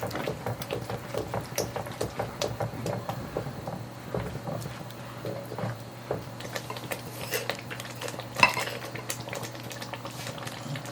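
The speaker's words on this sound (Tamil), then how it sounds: "அந்த அரைச்ச பேஸ்ட்டை இப்போ இதில் சேர்த்துட்டு நல்ல ஒரு ஃபைன் மிக்ஸ்" Ground paste mixed into aloo gobi gravy in a pot, heard as a low bubbling simmer with repeated soft utensil scrapes and clinks, one louder knock near the end.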